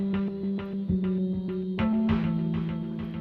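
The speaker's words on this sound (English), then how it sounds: "it's adding distortion to the first note and then not affecting any of the notes," An electric guitar plays a steady rhythmic pattern of repeated notes, a gritty distorted attack landing on the first note of each phrase, with no talking.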